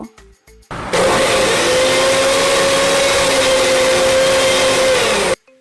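An electric blender grinds ginger into paste, starting with a few short taps and then whirring loudly and steadily close by for about four seconds before cutting off abruptly.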